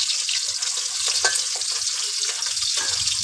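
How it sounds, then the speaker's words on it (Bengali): River rayna fish frying lightly in hot oil in a wok, giving a dense, steady sizzle and crackle that holds close and loud for the whole stretch, with faint clinks underneath. "মাছগুলো আমি হালকা করে ভেজে নেব এখন।"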